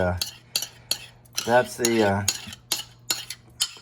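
A spoon scrapes and clinks against a bowl while cornbread batter with butter, jalapeño and cheddar is stirred, making a series of evenly spaced, close taps and scrapes, with a short stretch of voice in the middle.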